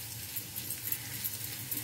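Ash gourd skin vegetables being stirred in a pan, giving a soft, steady scraping and patter with faint moist sizzling throughout, close and low in level.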